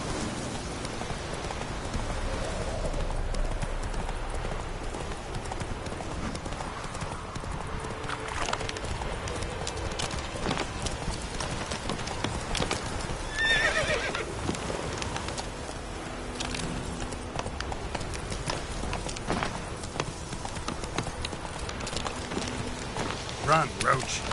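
Roach the horse gallops in Witcher 3, hooves clip-clopping in a continuous rhythmic beat over rain and ambient outdoor noise, with a person talking over it.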